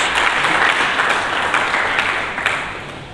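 A church congregation at a Sunday service breaks into loud, dense applause, a sustained roar of many clapping hands that fades slightly toward the end.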